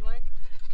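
A goat in a pen with bottle-fed kids gives a short, close bleat that fades quickly, with a brief rustle at the end.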